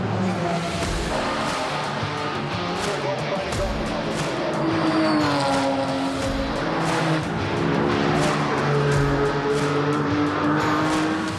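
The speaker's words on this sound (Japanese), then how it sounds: "その後も GR ヤリス DAT109 号車は大きなトラブルなく周回を重ねます。" A Toyota GR Yaris race car, number 109, laps the Nürburgring, its engine howling through rising and falling revs and gear changes, loud and close and continuous, with a faint voice beneath.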